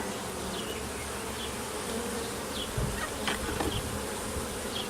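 Honey bees buzz continuously around an open hive during an inspection, a dense drone close by with individual bees flying past, plus occasional light knocks of hive parts.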